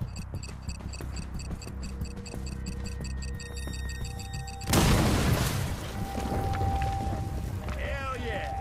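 Explosive blast in a ship video game: a ticking, beeping countdown gives way to a sudden loud boom with a lingering rumble and scattered debris, and a voice is heard in the background.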